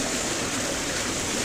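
Water rushes steadily through a river control gate in a forest preserve, a broad continuous roar that stays close and loud throughout, with no voices over it.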